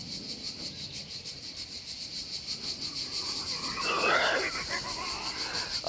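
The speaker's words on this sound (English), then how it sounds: "the sound of the cicadas." Cicadas buzz steadily in a rural French setting beside a ruin, a continuous high droning chorus with a pulsing texture, moderately loud throughout, joined midway by faint background activity.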